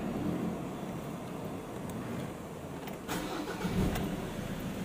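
A Ford Ranger 2.2 cranks and starts after routine maintenance, then settles into a steady nearby idle with a couple of brief revs, no talk over it.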